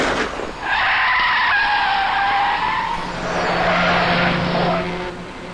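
A car skids to a stop in a loud, drawn-out screech of tyres lasting several seconds, with a second squealing burst following, amid a tense police crime-drama chase.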